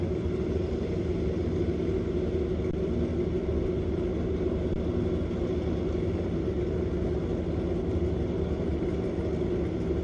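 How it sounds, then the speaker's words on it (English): A Kawasaki motorcycle at a drag race, heard as a steady, rumbling engine drone that holds even and moderately loud across the whole stretch, with no talk over it. "Here comes another Kawasaki"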